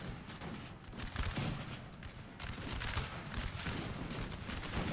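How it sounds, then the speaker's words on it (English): Massed musket volleys crackle continuously in a Napoleon: Total War battle, as infantry pour sustained fire on dragoons, dense overlapping shots rolling steadily at moderate distance. "They're firing on the dragoons."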